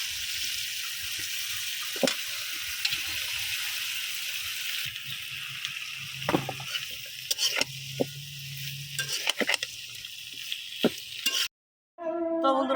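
Gourd leaves dropped onto fried spice paste on a wood-fired stove give a steady sizzle and crackle, with occasional stirring clatter and scraping and a brief cut-off near the end.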